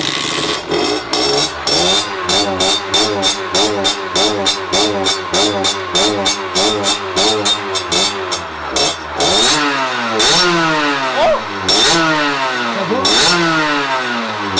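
A derestricted 50cc moped with a carbon exhaust running loudly up close, buzzing in a rapid pulsing rhythm, then revving up and down in repeated sweeps.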